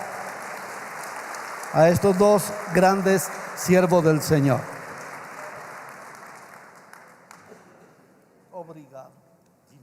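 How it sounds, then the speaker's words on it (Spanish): An audience breaks into applause to welcome two preachers at a church mission celebration, with bursts of clapping and someone speaking over them, then a quieter tail with a few scattered claps. "Los recibimos con un aplauso"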